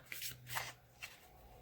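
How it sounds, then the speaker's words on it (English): Cards from a Circle of Life deck being shuffled by hand, a few soft riffling bursts close up, faint and brief, with no talking. "So hopefully I can do a little bit better than I did when I shuffled"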